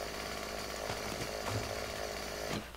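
A chainsaw in the 7 Days to Die survival video game buzzes steadily and loudly for a few seconds, a continuous motor drone with brief cutting surges, ending abruptly with no talk over it.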